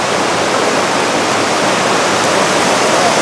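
A waterfall on a Pennsylvania native brook trout stream roars steadily and loudly at close range, a dense continuous rush without pauses.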